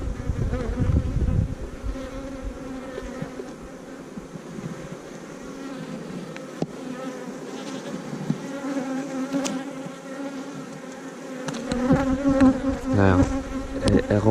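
Steady droning buzz of many honeybees around an open, queenless hive, close by, a dense continuous hum with individual bees rising and passing, no voices.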